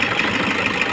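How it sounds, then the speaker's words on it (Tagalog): Toyota HiAce 2KD diesel engine with a knocking and misfire fault idles close by, a steady rough rumble with faint regular pulsing throughout and no voices. "Malaki yung pagbabago ng inig ng makina."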